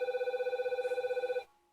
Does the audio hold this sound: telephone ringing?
yes